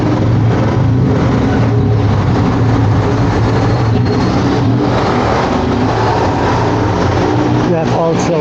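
A tuk-tuk engine rumbles along a Bangkok street amid constant loud traffic noise, with a dense mechanical drone throughout and voices mixed in.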